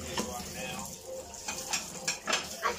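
Children wash dishes at a sink, with close clinking of cutlery and plates, scraping and splashing in irregular bursts, and voices faintly in the background.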